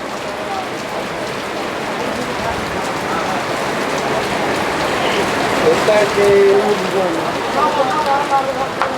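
Steady rain falls on surfaces nearby, a continuous hissing patter heard under people chatting at a tea stall.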